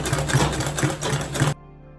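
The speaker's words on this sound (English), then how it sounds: "I'm going to be top stitching on this one, and I'm going to be using this green thread on the top and a black thread below" A sewing machine runs a top-stitching pass along a bag panel in green thread over black bobbin thread, a steady close mechanical whir with rhythmic needle beats that stops abruptly near the end.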